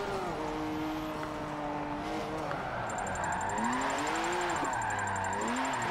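A race car engine drones and revs through a lap in a racing video game, pitch rising and falling with gear changes, a steady loud tone with no talk.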